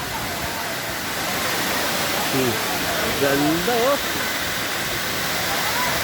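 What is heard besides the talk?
waterfall, water falling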